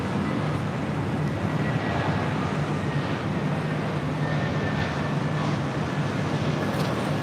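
Lufthansa Airbus A340 quad jet taxiing and turning at LAX airport, a steady broadband jet engine roar at moderate distance mixed with wind, continuous for several seconds without speech.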